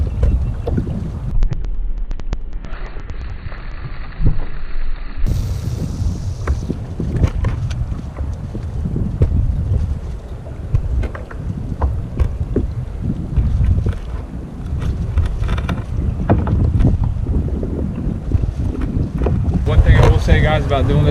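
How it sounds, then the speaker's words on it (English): Strong wind buffets the microphone on a fishing kayak out on saltwater, a loud continuous roar with rumbling gusts and occasional water sloshing against the hull. "It's real windy."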